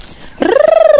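A single loud fowl call on a farm, a sudden harsh rising cry that then holds a steady, slightly pulsing tone, close and alone.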